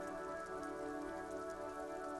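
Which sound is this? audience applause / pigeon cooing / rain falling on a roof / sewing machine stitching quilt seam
rain falling on a roof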